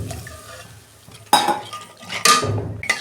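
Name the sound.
water poured into the masala in a pan for a Bogo fish curry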